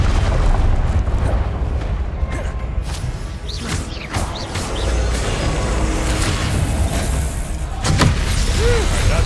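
Confringo fire spells explode amid combat in Hogwarts Legacy, with loud, continuous booming blasts and whooshes layered over one another for several seconds and no pause between them.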